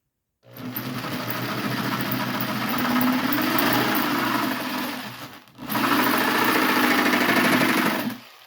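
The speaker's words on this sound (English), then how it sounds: "I'll cut these little tips off here" A power saw whirs loudly as it cuts the small tips off sanded gears, running in two sustained bursts separated by a brief stop, close and without talk.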